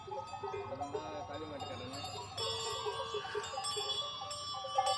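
Theni hill cattle move along with cowbells clanking in an uneven rhythm, mixed with bleating animal calls and people's voices close by.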